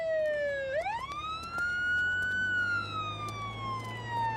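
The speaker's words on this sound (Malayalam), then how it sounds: "ആംബുലൻസ് വരുന്നുണ്ടല്ലേ?" A wailing ambulance siren sweeps up and down in pitch as it approaches, loud and steady over low road rumble, with no talk.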